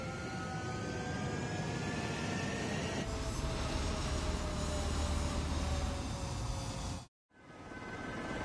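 A fighter jet taking off in Ace Combat 7, a loud continuous engine roar with rising whining tones that swells and grows rougher, then cuts out briefly before resuming.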